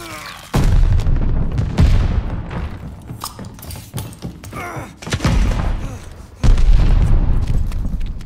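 Heavy gunfire and booming explosions around a contested hardpoint in Call of Duty: Vanguard, several loud close blasts spaced through the clip amid crackling shots, with announcer-like voice callouts in between.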